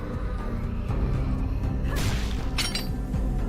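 A sharp, shattering smash with a whooshing burst lands midway through a horror video game awards trailer, followed by a second crunching hit over a low, droning music bed.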